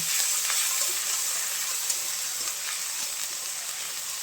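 Cumin, green chilli and garlic paste frying in hot oil gives a steady, even sizzle with a soft hiss, holding close and constant throughout with no voices.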